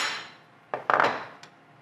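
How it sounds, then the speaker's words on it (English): Fireball magnetic blocks grabbed and set down in a workshop, a few quiet metallic clacks and knocks close by, after a faint hiss. "Just grab my Fireball magnetic blocks"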